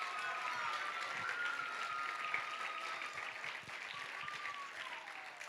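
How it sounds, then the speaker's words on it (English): An audience claps after a high school play at Suburban Christian School. The applause is steady and sustained, heard from somewhat far back in the room, with faint high cheers or whistles running through it. "Give a clap for them one more time."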